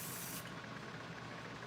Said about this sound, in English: I'm gonna spray it with spray paint.